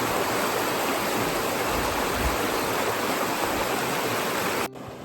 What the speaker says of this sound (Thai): มันจะมี ลำธารอยู่ฝั่งนี้ แล้วก็ฝั่งนี้